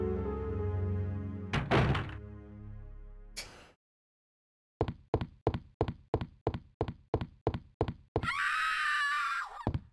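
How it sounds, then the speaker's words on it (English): Resident Evil 2 sound effects: a low droning tone broken by a short stock scream burst, then silence, a run of about ten evenly spaced heavy thuds like footsteps or knocks, and a harsh loud noise closing it. "Wow, stock screaming sound."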